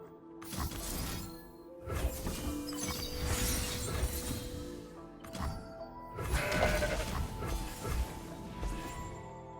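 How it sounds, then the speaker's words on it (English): A goat champion in the card game Legends of Runeterra bleats amid a dense, loud mix of game effects, with crashing and whooshing bursts layered over sustained tones throughout. "This is the goat champ."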